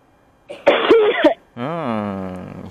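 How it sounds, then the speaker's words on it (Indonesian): A woman near a dusty roadside by the sea coughs harshly a few times, then clears her throat with a drawn-out, rasping voiced sound, close and loud. "Istriku sampai batuk-batuk pemirsa."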